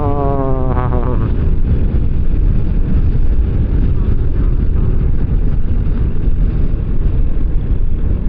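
Strong wind roars across the microphone during a motorcycle ride on a newly built road in Tagaytay, a loud, steady buffeting rush that swamps everything, with a voice briefly audible at the start.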